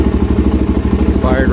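Motorcycle engine fitted with a swapped-in FCR39 carburetor, just fired up and idling; a close, steady, rapid low thump with a faint voice near the end.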